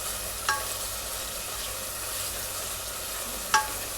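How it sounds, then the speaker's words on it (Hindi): Chili flakes stirred into bottle gourd bhujia frying in a pan: a steady soft sizzle with two brief sharp spoon scrapes against the pan, no voices. "ये इसके अंदर मिक्स कर लें।"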